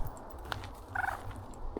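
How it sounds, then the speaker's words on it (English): A duck calls out near a canal towpath, a short cluster of nasal quacks in the middle, fairly clear over quiet outdoor background with faint footsteps. "Oh, a duck."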